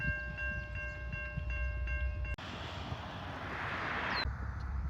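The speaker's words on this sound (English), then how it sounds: "Railroad crossing." Train rumbling past a railroad crossing with a steady loud roar, steady tonal crossing bells or horn heard in the first half, then a broadband rushing wash as the cars pass.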